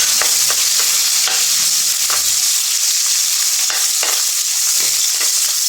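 Garlic and onion sautéing in a pan, a steady bright sizzle close by with a few soft stirring knocks and scrapes spaced through it and no talking.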